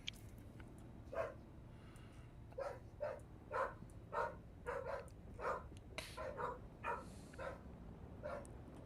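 A dog in the Dune: Awakening video game barks repeatedly in short, irregular bursts, faint and somewhat distant over a low background hum.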